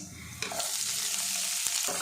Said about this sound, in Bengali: একসঙ্গে হালকা করে ভাজা ভাজা করে নেব